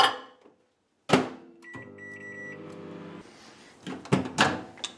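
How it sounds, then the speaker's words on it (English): Microwave oven running to defrost a bowl of frozen berries in a home kitchen, a steady hum with a bright clunk as it starts, then rustling and handling noises nearby. "I just defrost these in the microwave."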